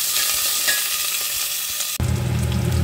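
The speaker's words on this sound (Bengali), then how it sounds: "এইটা কিন্তু ফোড়নটা আমি একটু শ্যালো ফ্রাই করে নেব" Green chilies, onion and garlic shallow fry in oil as a tempering for a ridge gourd, pointed gourd and potato curry, sizzling steadily with light stirring clicks, then a sudden louder burst of frying.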